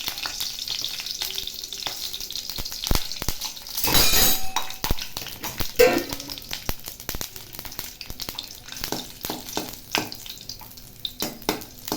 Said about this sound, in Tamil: பூண்டு நல்லா பொரிஞ்சு வரட்டும்.